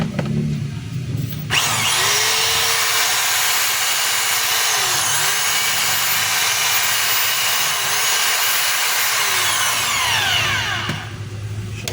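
A DeWalt D25033 rotary hammer with its armature motor running on a bench test, a loud steady high whine that starts abruptly, holds evenly for about ten seconds with slight pitch wobbles, then cuts off.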